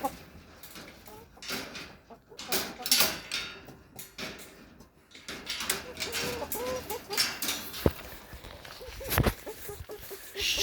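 Chickens cluck and murmur close by in a flock, with intermittent scratchy rustling and a few sharp clicks and knocks.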